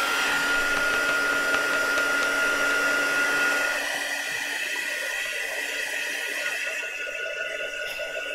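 A hair dryer blows steadily over decoupage on a spring-themed journal, a continuous airy whir with a faint motor whine, loud and close, easing slightly partway through and running alone without talk.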